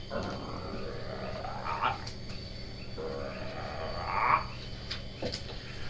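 A person imitates the deep, guttural croaking of giant toads during a tabletop role-playing session, giving two drawn-out low croaks over a quiet background hum.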